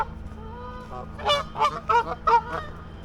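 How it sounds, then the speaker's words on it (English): Canada geese honk repeatedly in a series of loud, close calls, about five bursts in quick succession at a lakeside mere, following a softer, steadier bird call. "And more Canada geese."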